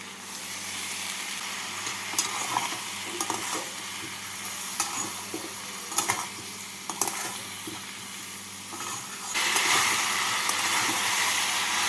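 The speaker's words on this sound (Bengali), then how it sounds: "অল্প জল দিয়ে সবজির সাথে মশলাগুলোকে ভেজে নেব" Vegetables frying with ground cumin, coriander, sugar and a little water for a spinach and prawn ghonto, a continuous close sizzle with repeated scraping stirs of a spatula against the pan, growing louder and hissier near the end.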